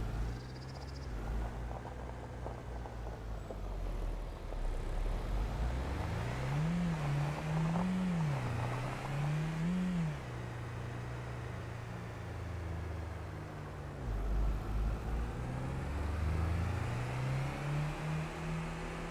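A vehicle engine in Farming Simulator 25 drones and revs, its pitch rising and falling in waves as it accelerates and eases off, continuous and fairly close.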